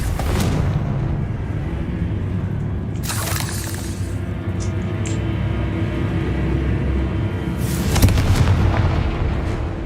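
Confringo fire blast spells explode in Hogwarts Legacy: a few sharp booming bursts, one near the start, another around three seconds and a louder one near the end, over a constant low rumble of battle noise.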